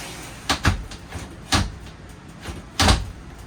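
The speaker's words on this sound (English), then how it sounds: "you pull in on the shower door to open it up." An RV shower door in a 2023 Forest River Salem FSX Platinum toy hauler is pulled open: a few soft rattling clicks and a firmer clack, nearby and alone, spaced out over a few seconds.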